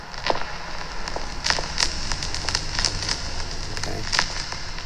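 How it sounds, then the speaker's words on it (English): A crackle sample is played back on the Samplr app: a dense, steady bed of fine static-like crackle, with scattered brighter pops and snaps spread irregularly throughout and no voices. "so you really get that crackle sense here"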